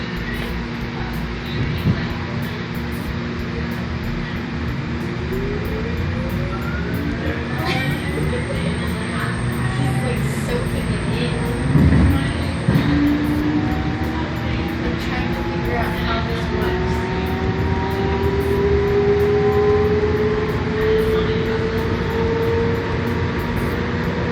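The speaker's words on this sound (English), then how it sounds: "The doors are closing. Train departing." A subway train pulls away from a station after its doors close, with a steady rumble and rising whine from the traction motors as it picks up speed, and people talking faintly over it.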